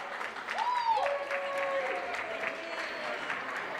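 An audience at a Christmas telethon applauds a band with a sustained wash of clapping, moderately loud and steady, while a rising and falling whistled or sung tone rises over it early on.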